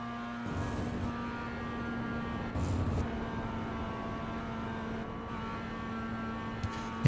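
Mazda MX-5 race car engine held flat out uphill at Spa-Francorchamps, a steady sustained drone with a constant pitch and a brief surge in the middle, heard from onboard without voices.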